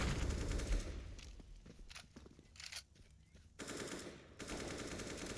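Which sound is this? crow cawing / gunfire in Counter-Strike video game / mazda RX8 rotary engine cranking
gunfire in Counter-Strike video game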